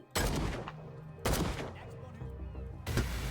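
Three separate pistol gunshots in the Call of Cthulhu video game, each a sharp loud crack with a short decaying tail, spaced roughly a second apart over a low background.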